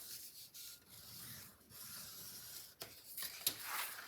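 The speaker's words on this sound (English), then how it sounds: "So we'll start out by folding and burnishing on those 2 score lines." Folded paper being burnished along two score lines for a baby safari and Easter papercraft project, giving a close, steady dry rubbing that runs in long strokes with brief pauses and a sharper scrape near the end.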